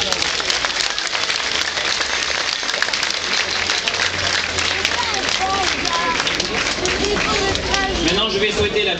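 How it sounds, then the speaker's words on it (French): Loud, sustained applause from a festival crowd for a dance troupe with drummers at a world dance and music festival in Montignac, with crowd voices and chatter mixed throughout. "On peut les applaudir."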